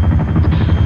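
Helicopter in the Arma 3 military video game, a loud, steady rotor and engine roar with a continuous low chop, close and filling the whole short stretch with no talk.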